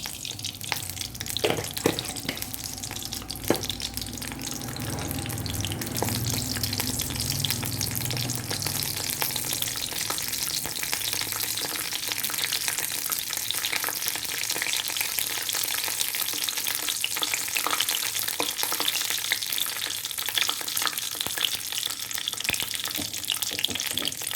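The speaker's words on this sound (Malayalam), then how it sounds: "എണ്ണ ചൂടായി വരുമ്പോഴത്തേക്കും കടുകിട്ട് കൊടുക്കാം." Mustard seeds crackle and spit in hot oil for a lemon curry, a dense continuous bright sizzle with scattered pops, preceded by a few clinks and stirring knocks at the start, close and steady.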